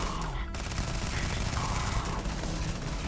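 Sustained automatic gunfire in the sci-fi shooter Starfield, a dense continuous burst of rapid shots lasting throughout, loud and close with no talking.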